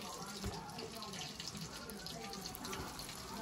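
Chicken frying in hot oil gives a dense, steady bubbling and crackling sizzle, close and continuous, with no speech over it.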